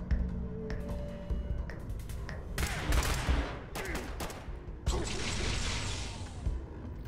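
Fallout Shelter gunfire crackles in rapid bursts of shots, with several volleys fired against a boss, and a faint steady background underneath.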